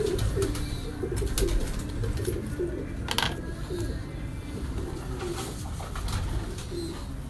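Flying pigeons coo steadily in soft repeated rounds close by, with faint voices and chirps in the background.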